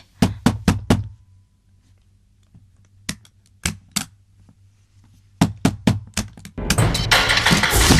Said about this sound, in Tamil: யாரது இப்படி தட்டுறது?